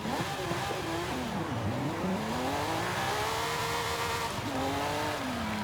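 Lamborghini Sian R engine in the video game Forza Horizon 5, revving up and down with rising and falling pitch through gear changes, loud and steady throughout with a rough, continuous road noise underneath.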